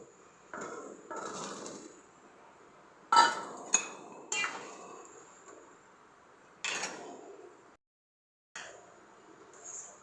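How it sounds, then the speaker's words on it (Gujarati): Potatoes tumble into a pot of sweet-and-sour Jamnagar-style sabzi simmering with jaggery and tamarind, bringing a few distinct clattering clinks and scrapes of metal utensils against the pot, spaced out between quieter stretches and one brief silent gap. "હવે બટેટા નાખી દેશું"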